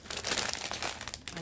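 A short, quiet burst of tape crinkling and tearing as a piece is pulled off and pressed on, close up, lasting about a second and a half.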